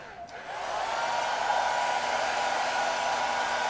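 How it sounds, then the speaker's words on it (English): A hair dryer blows on a watercolor painting at a drawing desk, clicking on and rising into a steady, close, whirring whine that holds without a break, with no talking. "So I got to run the hair dryer here really quick."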